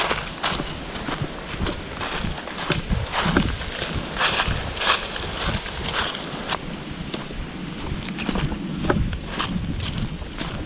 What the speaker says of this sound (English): This wind wasn't here this morning.